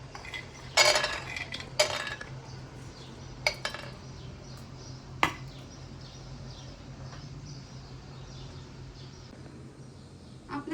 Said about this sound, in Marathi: सगळ्या तव्यावर आपण अशा शेंगदाणे टाकणार आहोत.